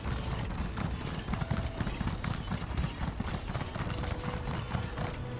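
Hoofbeats of a fast horse galloping in The Elder Scrolls Online, a steady rapid clip-clop rhythm running continuously at moderate level with no talking.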